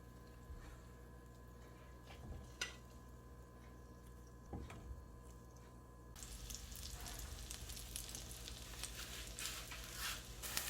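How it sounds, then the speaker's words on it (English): Butter fries in a saucepan on the stove while banana oat biscuits are made, a faint crackle with occasional pops that swells into a brighter, steady sizzle midway through. "your saucepan on fire and then add some butter. So now we start to fry it."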